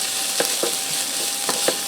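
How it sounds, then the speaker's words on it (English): Ground beef, peppers and garlic sizzle steadily in a skillet while a utensil stirs, scraping in a few short bursts over the constant hiss, close and alone. "I'm going to give that a stir."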